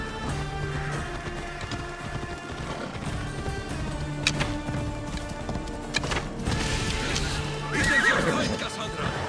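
A horse in Assassin's Creed Odyssey whinnies and gallops with steady hoof clip-clops under a tense musical score, while voices speak over the action.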